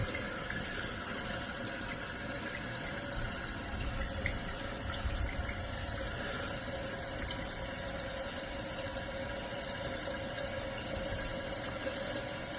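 A toilet flushes and then refills steadily after its water fill valve has been replaced, giving continuous broadband rushing water with a low gurgle partway through, close and fairly loud, with no speech.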